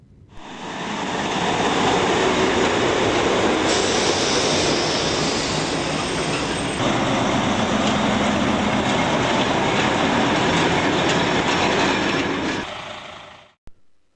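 A train on the private Viamont railway line between Sokolov and Krasice in the Czech Republic rumbles past loudly and steadily, a sustained roar with wheel noise that swells in and fades out at the end.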